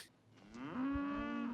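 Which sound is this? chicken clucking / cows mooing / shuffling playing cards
cows mooing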